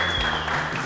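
Brief applause and clapping during a ball-tossing challenge game between two players, a short, close burst lasting under a second.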